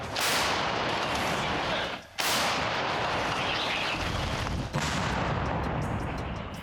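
Two loud, sharp artillery gun blasts from a firing crew, one after another about two and a half seconds apart, each followed by a broad roaring rumble that fills the clip.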